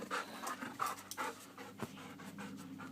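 A dog pants rapidly and steadily close by during an outdoor run, the quick breaths repeating in an even rhythm with no talking over them.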